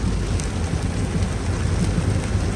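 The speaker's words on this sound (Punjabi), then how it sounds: "ਬਹੁਤ ਆ ਬਾਈ ਮੀਂਹ" Heavy rain pours down in a dense, steady roar, close and loud, with no voices.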